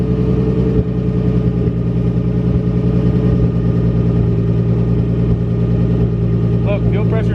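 A built 500-plus horsepower 2JZ-swapped Nissan 240SX idles steadily and loudly close by, a deep rumbling drone holding even throughout with a brief voice near the end.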